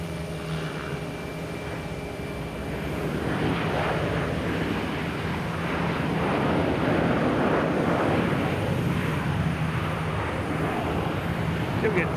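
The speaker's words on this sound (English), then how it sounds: "We get JetBlue heading to Denver, day 220. Taking off runway 9." A JetBlue jet airliner takes off from runway 9 at Boston Logan Airport, its engine roar building gradually into a sustained loud rumble as someone speaks over it.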